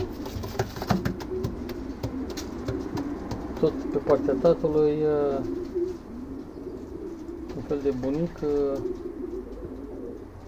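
Racing pigeons coo repeatedly in soft, rolling bursts close by, while someone talks over them.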